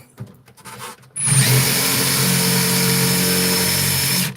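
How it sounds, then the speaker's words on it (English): After a few soft knocks, an electric drill whirs loudly and steadily for about three seconds while drilling a divot in opal, then stops, close up. "I'll just quickly put a divot in with the drill"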